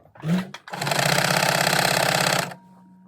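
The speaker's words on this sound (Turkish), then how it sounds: "Bu şekilde diktiğim zaman zaten kendisi büzerek dikiyor." A sewing machine gathers elastic-waist wrap dress fabric with a long stitch, a short burst followed by a steady, loud, rapid stitching run of nearly two seconds close up, then it stops.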